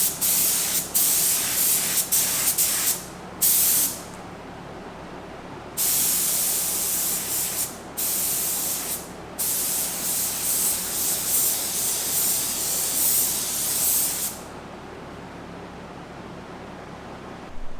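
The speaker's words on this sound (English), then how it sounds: "we'll go ahead and spray up our test light and see what happens." Spray gun applying smoked tint to a test headlight for a 1993 Foxbody Mustang, a loud continuous hiss in repeated bursts of several seconds separated by brief pauses, close to the mic.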